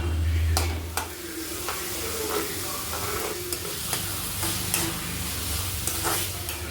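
Chopped capsicum sautéing with tomato and salt in a hot pan, a continuous close sizzle broken by repeated sharp spatula scrapes and taps at irregular intervals.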